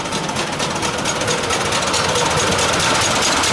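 A Simplex miniature steam locomotive runs at a track event, making a steady, rapid mechanical chuffing and clatter with constant vibration, close and continuous, no voices.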